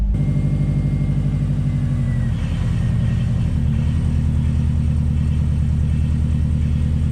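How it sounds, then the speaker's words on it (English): A Subaru car engine, with a rebuilt 5-speed transmission and long unstarted, runs steadily close by, with a low, even rumble and a slight uneven shift partway through, no voices. "Car has started, a little bit iffy"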